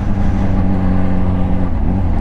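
Steady engine drone from a Honda CBR motorcycle on a last ride before sale, a constant loud hum with strong low harmonics and no change in pitch.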